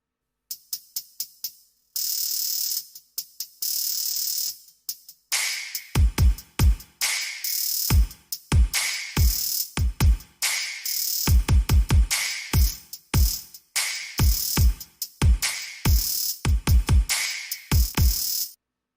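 Rapid electronic hi-hat rolls and stuttering hits over deep booming kick drums from a Yamaha DTX6 electronic drum kit, forming a crisp trap-style beat with no voices.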